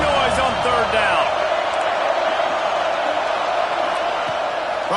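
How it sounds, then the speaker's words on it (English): Loud, steady roar of a stadium crowd on third down in a college football video game, Clemson against Georgia, filling the whole span with dense cheering and scattered whoops. "This dog crowd is off the leash, and they are coming after them, bringing noise on third down."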